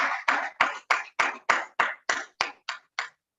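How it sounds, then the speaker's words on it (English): About a dozen evenly spaced hand claps from a single person, close and crisp, slowing slightly and stopping, at a Toastmasters club meeting greeting a speaker; no talking. "Let's give a virtual or give a round of applause to TMJ as she delivers her speech."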